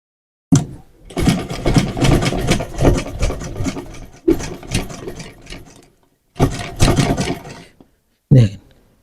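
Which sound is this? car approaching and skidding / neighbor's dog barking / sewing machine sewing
sewing machine sewing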